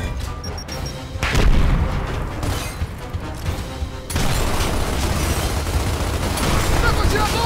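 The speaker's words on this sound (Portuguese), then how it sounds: "Granada neles!" Grenade blasts and gunfire in the Xbox One remake of Gears of War: dense, loud explosive booms and steady rattling fire run the whole stretch, with a sharp surge near the start and another at four seconds, under occasional talk.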